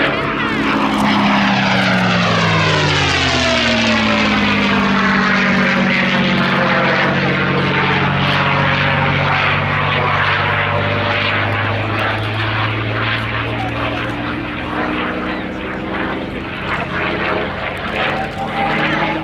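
A North American P-51D Mustang propeller fighter flies past at an air show at Yeovilton, its piston engine droning loud and steady for the whole stretch, pitch sliding downward as it passes.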